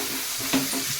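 Ginger garlic paste frying in oil gives a steady, close sizzle with a few soft stirring scrapes, and no one speaks.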